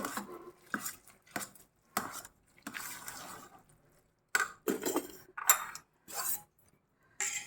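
A metal spoon scrapes and clinks against a pot while sweet pongal is stirred, a string of short irregular close scraping strokes with brief pauses.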